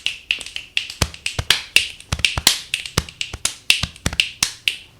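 Fingers snap in a quick, grooving rhythm, sharp crisp cracks repeating close up, some louder accents among lighter ones, with no voice heard.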